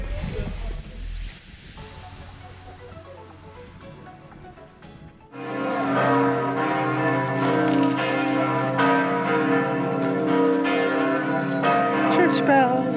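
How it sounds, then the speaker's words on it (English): Church bells ring on a Sunday in a small Swedish town, first a few distant strokes, then a full loud peal of overlapping bells swelling in and continuing steadily to the end. "Church bells."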